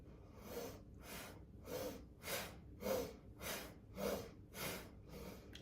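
Slow, steady breathing in and out through the nose during a Kundalini yoga session, about eight soft breaths in even rhythm, close and fairly quiet with no talking over it.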